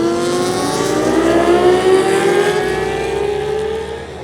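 A racing motorbike at the East Fortune hairpin sweeps past close and loud, its high engine whine sliding steadily downward in pitch as it pulls away, then fading.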